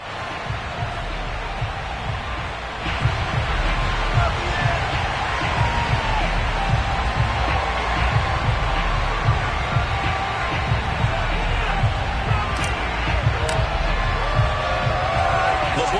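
A large football crowd at FedEx Field before a Washington game against the Houston Texans, a loud, dense roar of cheering that swells after a quieter start and stays full and continuous.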